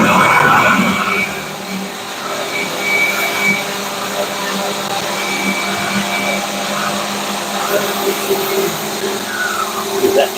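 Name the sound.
dust collection vacuum running in woodworking shop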